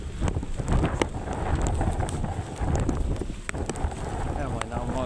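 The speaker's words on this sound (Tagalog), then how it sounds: "Lakas na ng hangin." Strong wind roars and buffets steadily throughout, with rumbling gusts and scattered clatter, close and loud.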